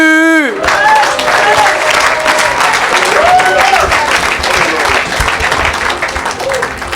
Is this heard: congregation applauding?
yes